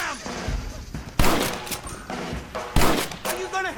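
Repeated gunshots in the Western game Red Dead Redemption crack out as loud, spaced blasts with echoing tails, mixed with in-game shouting and background voices.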